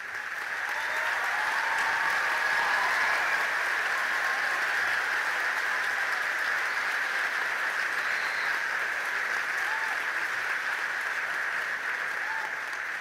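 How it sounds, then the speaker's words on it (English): A middle school graduation crowd applauds the teachers and staff, a sustained, even roar of many hands clapping that holds steady for the whole stretch without any talk. "can you please stand so we can acknowledge and applaud you?"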